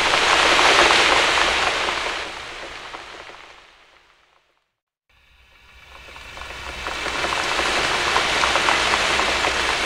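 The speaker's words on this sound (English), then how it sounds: "It's been raining for hours and hours." Steady rain hisses down on a surface in a dense, even patter. It fades out to brief silence midway, then swells back to full strength, with no voices over it.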